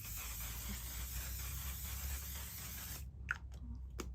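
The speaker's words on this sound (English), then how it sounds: "I spray it till it's wet and I let it dry." A steady broadband hiss of makeup setting spray from a mini bottle runs for about three seconds, then cuts off, leaving a few faint clicks and rustles.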